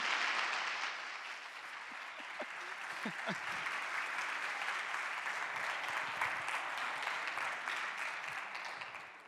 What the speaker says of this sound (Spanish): yo creo que merece un aplauso fortísimo para Alberto Aparicio